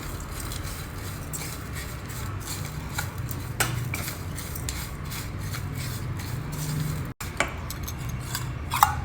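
A spoon scrapes and stirs grated coconut, jaggery powder and roasted white sesame seeds together in a bowl, producing a steady gritty rubbing that continues for several seconds with a few sharper clinks.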